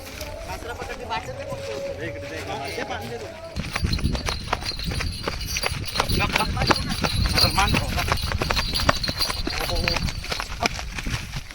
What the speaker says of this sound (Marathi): काढले जातात बैल गुरु आणि सोन्या आता चालूला फेऱ्याला